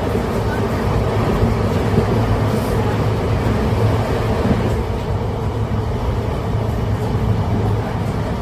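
A train running in the early morning, heard from inside a carriage as a steady low rumble with constant rolling drone and faint rattling, continuous throughout without clear speech.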